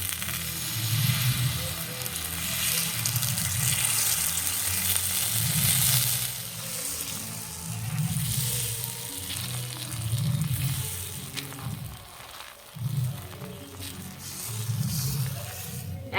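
Gola roti, a Bengali flatbread made from a poured batter, fries in a pan with a steady, loud sizzle and crackle that swells and dips over several seconds, with brief stirring or shifting noises.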